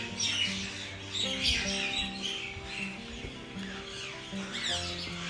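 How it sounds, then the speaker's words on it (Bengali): Birds chirping and squawking at Bolpur railway station at dawn, a dense layer of overlapping calls with steady station hum and tonal background noise beneath, fairly faint and continuous throughout. "ভোরবেলা এসে স্টেশনে আমরা পাখির শব্দ শুনতে লাগলাম।"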